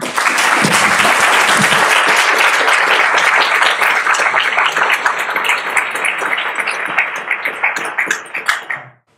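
A large lecture-hall audience applauds to welcome computer scientist Brian Kernighan, a dense, steady roar of clapping that holds loud for several seconds before thinning into scattered claps and stopping.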